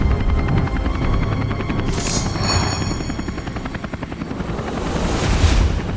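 A cartoon helicopter descending, its rotor a steady, loud, rapid chop with a high whine rising partway through.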